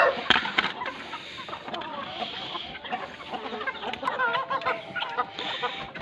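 Several chickens cluck and squawk in a coop, a busy, irregular stream of close calls with sharp bursts and shuffling among them, with no clear talk.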